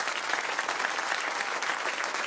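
A studio audience applauds teachers on a French television show, steady even clapping, fairly soft and continuous with no talk over it.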